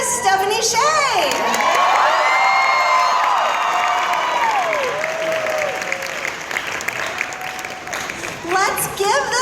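A Q&A audience after a Sailor Moon R premiere screening bursts into loud, sustained applause mixed with cheering, whoops and children's shouts, filling the whole stretch and tapering slightly before another swell near the end.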